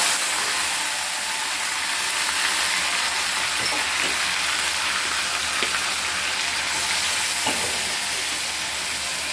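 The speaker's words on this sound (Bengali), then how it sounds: "এখন আমি পেঁয়াজ বাটা দিয়ে দিচ্ছি।" Onion paste fries in hot oil for chicken curry, making a steady, broad hiss and sizzle with occasional faint clicks from stirring. The sound is close and even, with no one talking.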